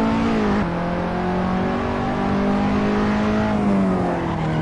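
Steady, loud engine note of a race car driven in Assetto Corsa in the N3 class, held at high revs with shifting pitch as it accelerates and lifts, close and continuous with no talking.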